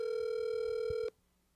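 A phone call rings out as a steady electronic telephone tone for about a second before cutting off abruptly, with faint room noise left after it.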